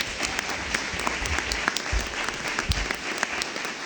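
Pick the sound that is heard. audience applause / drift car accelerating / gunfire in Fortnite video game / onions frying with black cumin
audience applause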